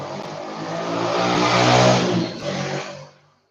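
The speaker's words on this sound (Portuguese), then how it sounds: "Esperei um pouquinho aqui, porque passou uma moto aqui" A motorcycle passes by a house, its engine note swelling louder to a peak then fading out quickly, heard alone without voices.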